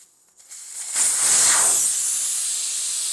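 Air hisses steadily out of a tire on a wheel once the valve core comes out, a sudden loud rush that settles into a constant close hiss.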